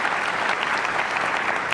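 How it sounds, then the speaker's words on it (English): Steady applause from an audience, dense clapping throughout with no voices standing out. "can everyone give a round of applause to the set of people who actually contributed to that story?"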